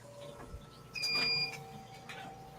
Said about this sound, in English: you're going to hear my chamber vacuum sealer sing the song of its people again